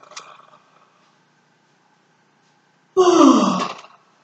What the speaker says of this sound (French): on s'étire, on bâille